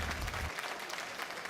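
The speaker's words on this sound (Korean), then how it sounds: "회원들이 뜨거운 박수가 이어졌습니다" Warm applause from members at a farmers' association ceremony marking the handover to newly installed officers, a steady, fairly faint patter of clapping over a short stretch.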